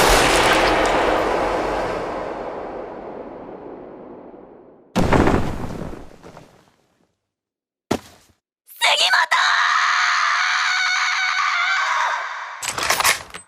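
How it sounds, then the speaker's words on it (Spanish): Gunshots in the anime Golden Kamuy ring out as two loud, abrupt blasts a few seconds apart, set among dramatic soundtrack noise with voices crying out around them. "en ese momento le disparan a los dos en la cabeza"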